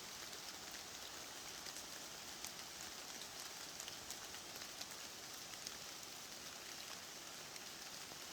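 Steady rain falls on the Alum Cave trail to Mount LeConte in Great Smoky Mountains National Park at 50F. It makes a continuous soft, even hiss with no voices.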